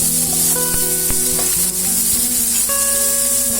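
Onion and garlic paste fries in hot oil for coconut milk pilau, sizzling loudly and steadily while a utensil clinks and scrapes against the pan.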